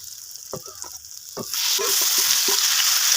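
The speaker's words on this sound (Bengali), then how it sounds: "মেরিনেট করে রাখা মাটনটা দিয়ে দেবো" Marinated mutton drops into masala fried with dry chilli powder for a Bengali mutton curry: a few spoon scrapes and clinks, then a loud, steady sizzle that swells up and keeps going close by.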